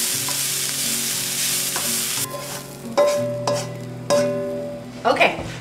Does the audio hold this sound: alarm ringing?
no